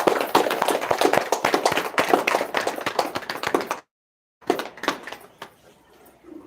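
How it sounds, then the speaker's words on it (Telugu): A group in a meditation class claps together in a dense burst of applause, then stops briefly before a second, shorter round that thins out and fades. "ఈ ధ్యానాన్ని మనకు అందించిన బ్రహ్మర్షి పత్రిజీ గారికి చప్పట్లు కొడదాం."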